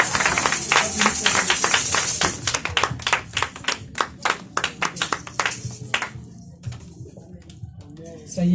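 A church congregation claps in worship to acclaim God, with dense applause at first giving way to a steady rhythmic beat of sharp hand claps, alongside voices.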